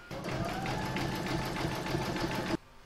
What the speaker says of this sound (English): I'm now going to pop this into my machine and stitch round number 11, and that's going to do the zigzagging